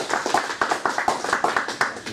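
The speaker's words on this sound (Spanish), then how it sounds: "para cual pedimos un fuerte aplauso" A small audience at a gnostic institute in Los Angeles claps to welcome a lecturer on Krishna, with distinct, fairly close hand claps in a quick, uneven patter.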